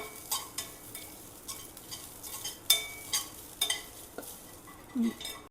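Grated coconut and salt being mixed in a pan for coconut rice: close, scattered scraping and clinking of a spoon against the pan in uneven strokes over a faint sizzle, with no talk.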